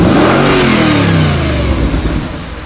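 Audi A6 C6 with the 4.2L V8 quattro engine revs loud and close, a deep rising roar that holds strong before easing off toward the end, with no talking over it.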